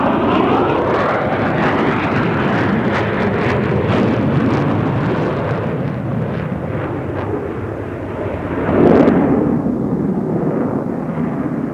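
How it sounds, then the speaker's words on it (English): Blue Angels jets roll down the main runway at the Reno National Championship Air Races, a loud continuous roar and rumble that swells briefly near the end. "the Blue Angels roll down the main runway here at the Reno National Championship Air Races"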